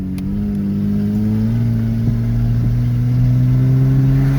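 A car engine runs steadily after a plugged air filter has been replaced, a loud close hum with a smooth, even tone holding for several seconds and no talk over it.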